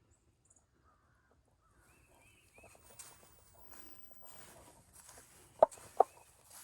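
Backyard chickens near a vegetable garden with kale and Swiss chard give a few soft clucks and calls over quiet outdoor ambience, ending in two sharp, louder bird squawks close by.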